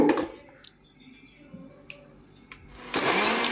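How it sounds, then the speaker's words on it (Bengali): A mixer grinder whirs to life near the end, blending onions, rice and melon seeds with water into a loud, steady grinding roar after a few quiet clatters. "এরপর মিক্সির ঢাকনাটা মুড়ে দিয়ে আমি মিক্সিতে বসিয়ে মিক্সিতে বেটে নেব"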